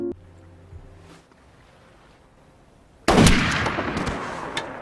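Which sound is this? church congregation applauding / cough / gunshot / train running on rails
gunshot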